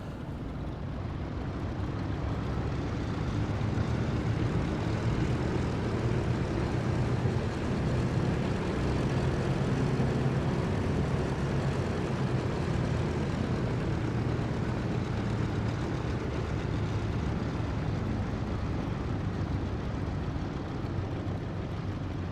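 A DC-3 twin propeller aircraft in Microsoft Flight Simulator drones steadily in flight, a continuous broad engine roar with a low throb, heard alone without talk.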